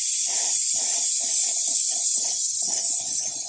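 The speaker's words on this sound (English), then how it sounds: "I always point the nozzle away from the miniature when I start pressing in the air" An airbrush sprays primer onto a Warhammer 40k Space Marine miniature, a constant loud, close hiss of air with a faint rhythmic pulsing beneath it that lasts throughout.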